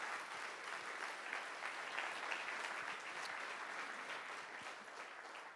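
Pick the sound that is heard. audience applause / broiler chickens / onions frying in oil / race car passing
audience applause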